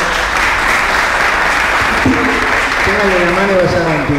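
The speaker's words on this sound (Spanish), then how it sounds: "Un aplauso para ellos, por favor." An audience applauding guests arriving on a talk show set, a steady dense wash of clapping throughout, with a voice speaking over it toward the end.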